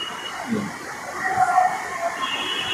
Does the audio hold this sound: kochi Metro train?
yes